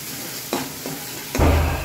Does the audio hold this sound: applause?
no